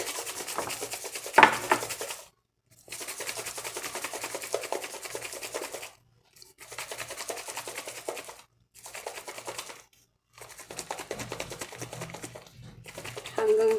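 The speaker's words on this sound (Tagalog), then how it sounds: "I-shake po natin ng maigi." A cappuccino and condensed milk mixture is shaken hard in a closed container, producing bursts of rough rustling and sloshing separated by short pauses, close up with no voice heard.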